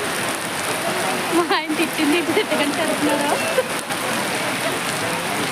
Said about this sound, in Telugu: అదిగో ఫుల్గా వర్షం వచ్చేస్తుంది.